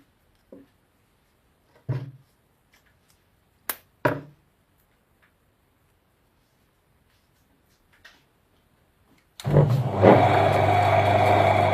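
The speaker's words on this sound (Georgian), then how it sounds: "ძრავი მუშაობს." An electric motor from a capacitor-start household unit, with a few sharp clicks and knocks while it is wired up, then the motor switches on and hums steadily and loudly up close.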